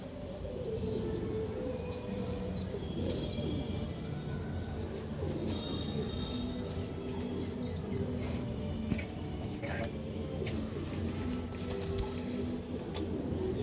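Several female pigeons coo softly and repeatedly, with occasional chirps and light rustling, against a busy low background hum, all at modest volume with no clear speech.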